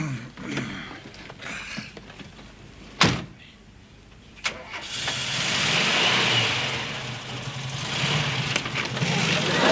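Old car engine starting and reversing, a sharp clunk and short bang followed by the engine catching and rising into a sustained revving drone that swells louder toward the end.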